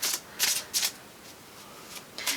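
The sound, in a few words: shuffling a Shadowscapes tarot card deck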